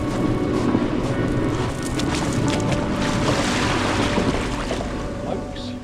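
A kayak launches onto the sea at Eastbourne at low tide, with a steady, dense wash of wind and water noise running throughout.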